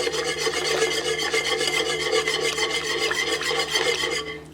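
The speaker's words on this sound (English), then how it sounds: "So you just want to keep stirring" Candy mixture is stirred continuously in a pot on medium to medium-high heat, a spatula scraping steadily against the sides and bottom in an even, close, rasping rhythm.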